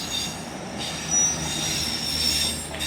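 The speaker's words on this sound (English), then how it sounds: "Departing now is your delayed 1320 Grand Central service from London King's Cross to Bradford Interchange" A Grand Central train with former Avanti West Coast carriages departs Doncaster station, its wheels squealing high and steady over a low rolling rumble at moderate distance.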